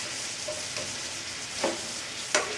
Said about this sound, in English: I'm going to kind of mix this all around because I want all of these to get a little bit of that oil and a little bit of that bacon grease in there